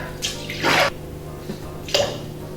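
Non-dairy milk is poured into a bowl for brownie batter, giving two short splashy pours with a brief liquid spatter between them, close and fairly loud.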